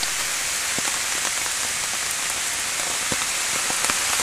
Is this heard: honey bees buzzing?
no